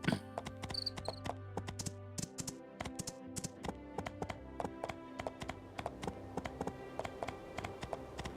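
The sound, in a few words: horse hooves clip-clopping in the video game Portia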